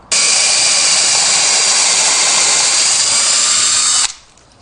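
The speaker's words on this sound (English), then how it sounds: "This drill will cut the hole for the plug and make part of my pilot hole." A power drill boring a hole in wood whines at high speed steadily for about four seconds, close and loud, then abruptly stops.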